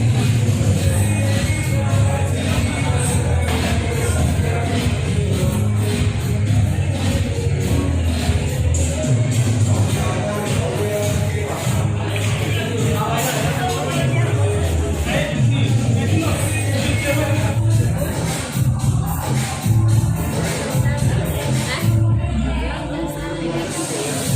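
Dense crowd at a Navratri pandal on the ninth day of the festival, a constant loud babble of many voices close around, mixed with general hubbub and scattered movement noise.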